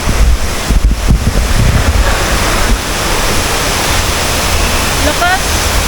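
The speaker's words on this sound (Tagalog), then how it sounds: "Dito na yung falls." Waterfall at a hidden resort in Biliran, a steady broadband roar of rushing water with wind buffeting the microphone early on, while people talk briefly over it.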